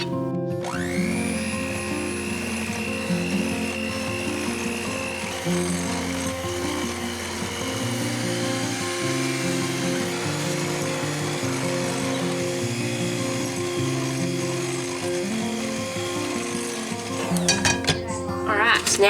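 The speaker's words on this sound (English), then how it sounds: "I'm just gonna mix the rest of this up with a hand mixer." An electric hand mixer whirs steadily through a bowl of eggs, sugar and vanilla for cake batter, its motor tone shifting slightly in pitch as the beaters move, close and continuous, with a clatter near the end.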